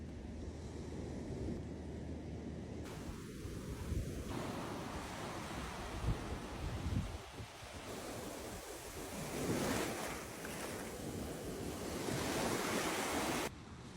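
Ocean waves break and wash over a beach in Bermuda, a continuous close roar of surf with swelling surges, mixed with gusty wind buffeting the microphone.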